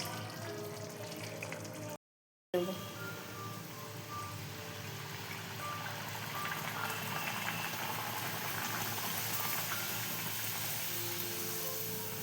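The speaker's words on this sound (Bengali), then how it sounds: "এখন লুচি ভাজবো" Luchi bread deep-frying in hot oil gives a steady, close bubbling sizzle that runs throughout, broken by one brief silent gap near the start.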